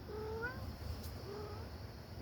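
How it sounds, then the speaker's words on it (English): A cat meows twice, rising and falling, at moderate distance over a steady low background hum. "Meow, meow, meow, meow."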